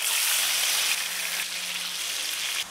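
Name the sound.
marinated fish frying in oil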